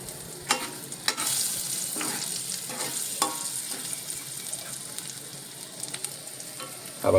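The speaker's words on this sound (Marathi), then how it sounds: "हा बघा, मिरच्यांचा रंग पालटतोय म्हणजे फोडणी तयार आहे." Chillies fry in hot oil for a Marathi-style tempering, crackling and sizzling steadily up close while a utensil stirs and scrapes the pan at intervals, with no talking.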